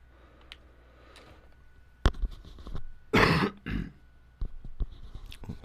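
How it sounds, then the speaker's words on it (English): A few hoarse coughs close to the mic from a player during a Skyrim dungeon crawl, a broad burst and a short follow-up, with quiet game ambience and small clicks around them. "Sorry about the cough, folks."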